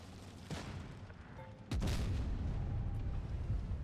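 A tank in the online game Tanks Blitz fires a single heavy cannon boom partway through, over a low battlefield rumble.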